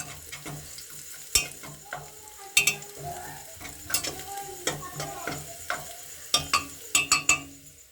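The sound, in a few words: ghee sizzling in a pan while cooking mutton bone soup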